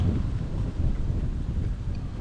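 Strong wind roars and buffets the microphone in a steady, low rumble, with no voices.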